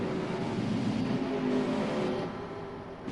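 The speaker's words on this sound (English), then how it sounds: "let's get on board our pace car right now, folks" A pace car rolling around Pocono Raceway in a racing game, its engine a steady low drone at moderate level that eases off toward the end.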